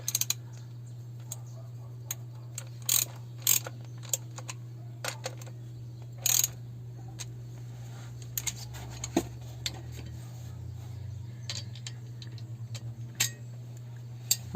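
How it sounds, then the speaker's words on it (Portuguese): Sharp metallic clicks and ticks of a ratchet wrench snugging the connecting rod nuts during a rod and main bearing replacement, scattered irregular bursts over a steady low hum, close and clear with no talking. "Eu só vou fazer o encosto agora com a chave catraca."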